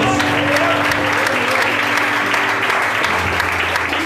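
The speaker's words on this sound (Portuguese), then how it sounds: "Quem quer Jesus aí, aplaude e glorifica a Deus." A church congregation breaks into steady, loud applause during a sermon, a full, sustained wash of many hands clapping together with a low murmur of the crowd beneath it.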